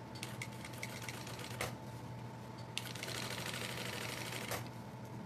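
A home sewing machine stitches the bottom of a fabric backpack, running in a steady, fairly quiet mechanical whir at close range with a few short clicks and bursts along the way.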